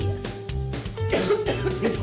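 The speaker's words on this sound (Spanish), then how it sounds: "Esa tos con catarro tiene más de 15 días." Chesty cough with catarrh, several harsh wet coughs and throat clearing in quick bursts, fairly close, with voices talking in the background.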